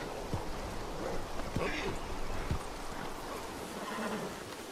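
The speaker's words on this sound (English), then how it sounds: "Now he's going to take and place that horse inside the corral." A horse in a video game clip-clops and whinnies as it is led into a corral, with soft hoof beats and a brief neigh over steady outdoor ambience.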